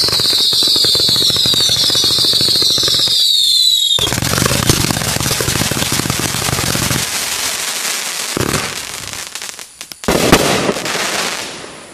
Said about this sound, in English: item number 28, Massive Fire, 500 grams from Legend Fireworks